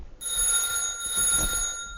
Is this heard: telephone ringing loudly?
yes